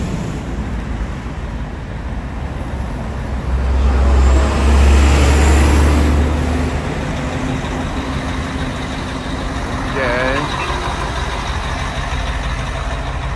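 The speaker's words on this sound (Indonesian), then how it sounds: "Bus-bus tuh guys, ini untuk ngangkut-ngangkut para jamaah." Pilgrims' buses idle at Arafah at 2 a.m., a constant deep diesel rumble that swells louder for a few seconds as one engine revs, with faint traffic noise around.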